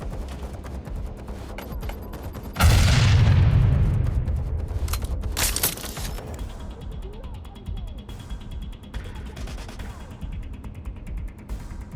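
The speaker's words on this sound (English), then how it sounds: "Frag grenade drop!" A frag grenade explodes in Watch Dogs Legion, opening with a sudden loud, close boom that rumbles and fades over a couple of seconds, then is followed by scattered sharp bangs and quieter game noise.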